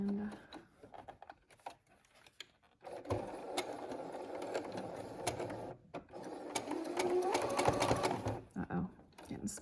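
A sewing machine stitches a fabric face mask in bursts of steady mechanical whirring, stopping and restarting, with a voice speaking over parts of it.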